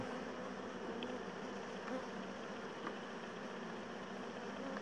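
Honeybees hum around an opened beehive during an inspection, a steady close buzzing swarm at low level with no pauses and no voices.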